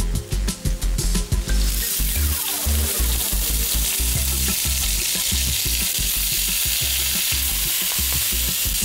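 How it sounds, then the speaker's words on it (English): Chopped onion fries in oil in a pan where lamb was just browned, with a few sharp clatters at first before a loud, steady sizzle takes over close up. "Touch more oil going into the pan. And now fry off the onion."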